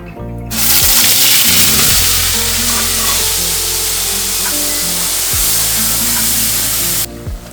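Onion paste drops into hot oil tempered with cumin for a prawn dish, setting off a loud, dense sizzle that starts abruptly and holds steady for several seconds before cutting out, with a low hum beneath.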